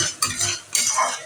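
A spatula scrapes through an egg mixture being sautéed in a pan, two quick metallic scrapes close up over a soft sizzle, brief and distinct.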